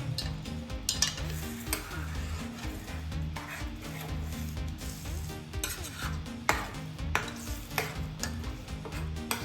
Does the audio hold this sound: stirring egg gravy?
yes